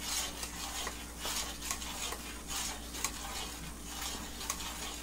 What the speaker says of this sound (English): it's getting there, almost to a rolling, sizzling boil